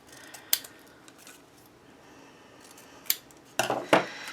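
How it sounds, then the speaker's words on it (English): Scissors trim paper for a vintage-style scrapbook album page, giving a few crisp snips spaced apart with a quick double cut at the end. They sound close, over a quiet room background. "I'm going to trim this down so it does not overhang."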